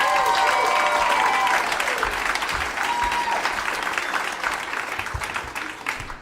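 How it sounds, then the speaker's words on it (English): A comedy club audience bursts into dense, loud applause and cheering as a comedian is brought on stage, holding strong before gradually thinning out toward the end. "Big round of applause."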